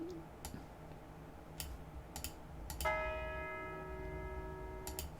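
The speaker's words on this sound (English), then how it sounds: "It's a long bell someone recorded of a church" A church bell rings out with a long, shimmering tone that sustains and fades, preceded by scattered clicks and taps.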